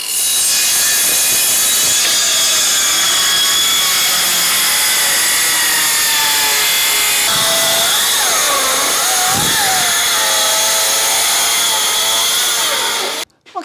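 Circular saw rips through plywood covered in masking tape, a loud, continuous high whine of blade on wood lasting over ten seconds before cutting off abruptly at the end.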